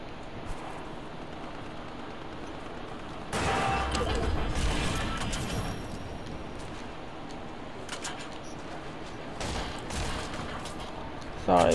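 Gunfire from a gun in Fortnite, with several loud bursts of shots and crashing impacts spread across the stretch, over a steady game background.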